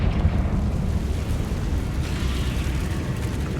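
A Confringo blasting spell goes off in a Harry Potter video game: a loud, sustained rumbling explosion with a deep roar that holds steady throughout, without a distinct attack or tail.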